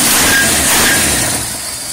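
A Ford Falcon Futura engine, warmed up, runs steadily with a mild throttle blip, its smooth motor hum swelling slightly before easing back, close and fairly loud with no talk.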